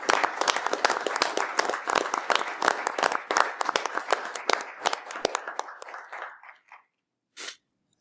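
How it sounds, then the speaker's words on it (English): A room of people claps for an artist being honored at a proclamation, brisk uneven applause close by that thins out and stops, followed by one last brief clap. "Let's give Kimberly a round of applause"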